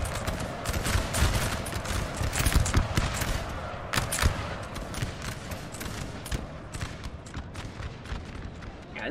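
Musket volleys crackle in Napoleon Total War, dense rapid rattling bursts of gunfire layered over a continuous battle din, some shots sharp and near, others distant.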